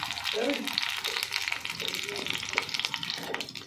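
Chicken poppy seed fritters frying in hot oil, a steady close bubbling sizzle with faint clatter as they are turned, running under a person talking.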